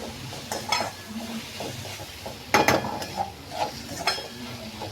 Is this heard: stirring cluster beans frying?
yes